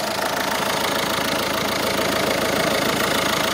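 A 2008 Peugeot 308 1.6 engine idling steadily up close during a home service oil change, a constant even rumble with a fine rhythmic ticking pulse and no talk.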